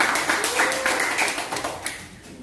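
A classroom audience claps for presentation group 4, a dense, even patter of hands at moderate loudness that carries through and thins slightly toward the end.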